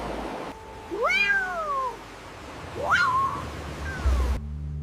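A cat meows twice, long rising-and-falling cries with a pause between, followed by a softer third call, fairly close and clear.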